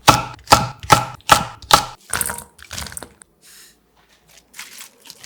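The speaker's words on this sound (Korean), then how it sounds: "고춧가루를 대신해서 칼칼함 더해줄 홍고추 10개 110g을 작게 잘라 담아주세요." A knife chops ten red chillies into small pieces for water kimchi: about seven crisp, evenly spaced chops, followed by softer, sparser cutting sounds that trail off.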